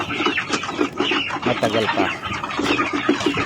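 Young ready-to-lay hens cluck and chatter in a group, with repeated short, overlapping calls close by that continue throughout.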